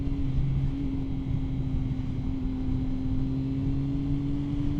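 A Triumph Speed Triple 1050 motorcycle engine holds a steady drone at 6,000 RPM, a continuous even hum under wind rush with no talk.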